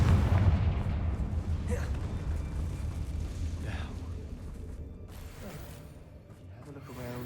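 The Confringo fire spell in the video game Hogwarts Legacy sets off a deep, rumbling blast at the start that decays slowly over several seconds, with a couple of fainter bursts and some game voice in the background.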